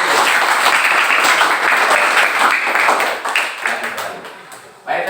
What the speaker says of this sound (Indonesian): Berikan aplaus lagi untuk kelompok Melati